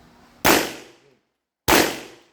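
Two sharp pistol gunshots ring out during marksmanship qualification firing at a corrections range, a little over a second apart, each loud and close with a short fading tail.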